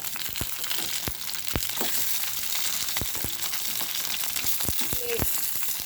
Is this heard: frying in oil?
yes